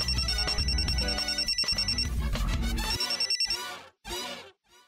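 Phone ringing in a Marathi TV drama scene, a loud, close electronic ringtone melody that repeats in steady pulses, then stops with a few brief final tones.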